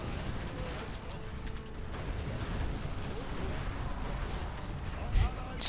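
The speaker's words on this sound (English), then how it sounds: "Missile launch." A missile launches during a battle in the Warcraft 3 Reforged strategy game, with booming, rumbling blasts and a sharp low thump near the end over continuous battle noise.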